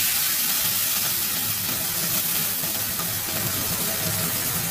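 Wine sizzles steadily in a little oil in a pan with tofu, a constant close hiss and crackle that holds at an even level throughout, with no voices.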